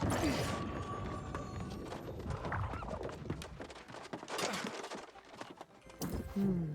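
Horse hooves clip-clop at a gallop during a horse race in the video game New World: Aeternum, a steady, fairly quiet patter of hoofbeats with a faint whinny and other game sounds around it.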